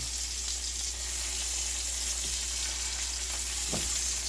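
Cajun pork chops frying in hot oil after a flip, a steady dense sizzle up close with a couple of faint clinks from the pan.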